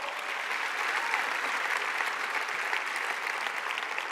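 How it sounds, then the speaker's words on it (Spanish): A church congregation applauds at a service, dense sustained clapping from a large crowd lasting throughout, fairly even in level and heard from a moderate distance. "Dale fuerte el aplauso al Señor."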